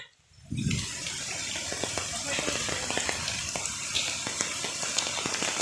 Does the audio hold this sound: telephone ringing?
no